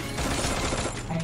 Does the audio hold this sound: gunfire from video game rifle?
yes